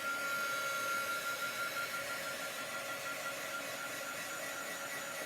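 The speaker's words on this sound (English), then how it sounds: "So I'm just drying the board off because it's wood." A hair dryer or similar blower roars steadily as it dries a wet wooden chalk board, a continuous, even whooshing noise with no talk over it.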